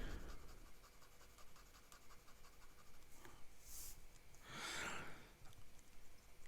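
A Platinum Curidas fountain pen nib scratches across paper up close, giving soft, faint scratchy strokes in short bursts with brief pauses between them.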